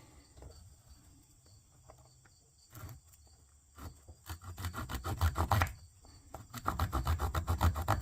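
A hand saw cuts through a short piece of stick for a PVC survival bow, starting with scattered rasping strokes and building into steady, louder back-and-forth sawing near the end.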